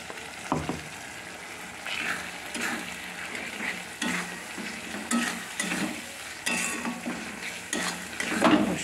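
Spices and ginger frying in a pan with a splash of water, a moderate sizzle broken by repeated scraping and knocking of a utensil stirring the masala, close and without talk.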